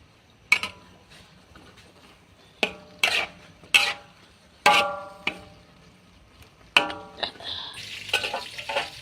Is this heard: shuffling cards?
no